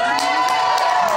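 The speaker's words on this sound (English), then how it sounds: "More than a humble woo, I got applause." A crowd at a stand-up comedy show cheers and whoops loudly with applause, a dense, sustained burst of voices and clapping throughout.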